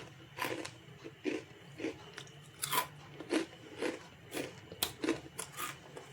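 Crisp, crunchy bites into deep-fried sprouted bajra (pearl millet) kharodya fritters, a repeated series of about a dozen sharp, close crunches and chewing sounds with no talking.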